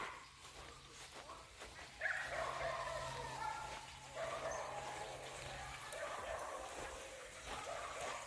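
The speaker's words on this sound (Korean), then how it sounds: "지금 저희 강아지들이 흥분을 했습니다." Several dogs bark and yip excitedly at a water deer caught in a fence at a countryside house, a run of fairly faint barks and whimpers with outdoor noise around them.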